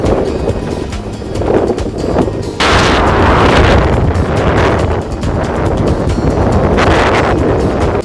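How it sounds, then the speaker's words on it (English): Strong wind gusting across a beach, roaring and buffeting the microphone in heavy, continuous bursts that swell louder partway through and stay intense throughout, with no voices. "So into the beach, it was really windy."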